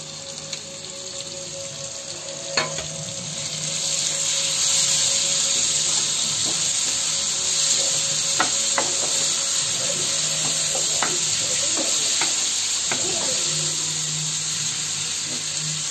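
Tomato frying in a prawn gravy masala of onion and ginger-garlic paste gives a steady sizzle and hiss that swells after a few seconds, with scattered spoon taps and scrapes as the pan is stirred.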